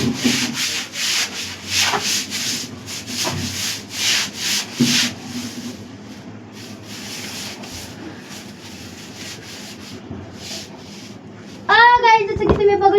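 Stiff kharata broom scrubbing and rubbing in repeated bursty strokes, loud at first and then fading to softer scraping, under a voice, with a sudden shrill squeaky burst near the end.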